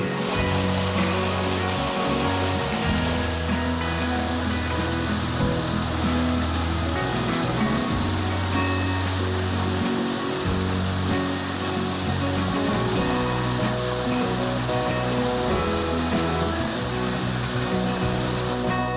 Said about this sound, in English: The sound of falling water in the middle of a forest, away from the sights and sounds of cities